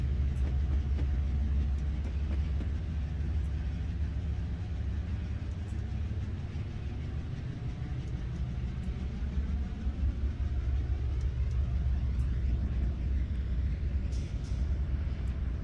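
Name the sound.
CSX freight train passing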